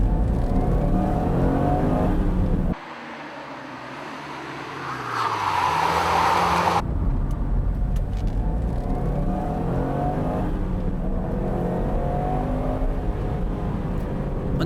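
A Nissan Skyline GT-R is driven hard through corners with tail slides, its engine revving and roaring close by, shifting tone partway through before settling back into a steady, loud drone, with no talking.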